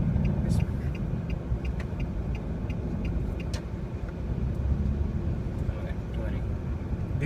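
Road traffic in Dubai near flyovers rumbles continuously, a steady low engine drone of passing cars with faint higher clicks, while a voice talks over it.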